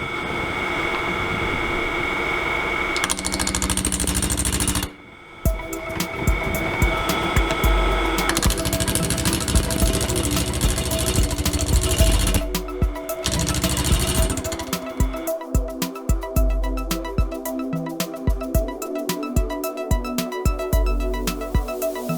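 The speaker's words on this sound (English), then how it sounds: "you can see the lathe is just starting to shake" A wood lathe turning a composite bowl from scrap wood at about 790 rpm, a loud, continuous whirring rumble with rattling, juddering vibration, a brief gap, then harsher rhythmic knocking and chatter as it starts to shake.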